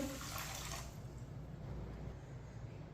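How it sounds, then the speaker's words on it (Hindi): Water gushes briefly into a cooking pot at the start, then settles into a quieter, steady watery hiss. "3 प्याली पानी डालेंगे।"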